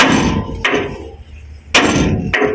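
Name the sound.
hammering out a part while repairing a car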